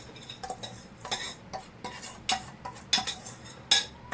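A beater rapidly clinks and scrapes while mixing jaggery in a bowl. The taps and stirring knocks come close-up in an irregular series, with no talking.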